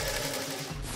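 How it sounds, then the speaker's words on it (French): A sewing machine runs steadily for about a second, a continuous dense mechanical whir with a low hum, fairly loud and alone with no voices. "Je vais charger la machine à coudre!"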